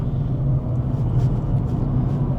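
Dacia Spring electric car pulling away on a quiet road, heard from inside the cabin as a steady, fairly loud low road-and-motor rumble with a faint whine, continuous throughout and free of speech.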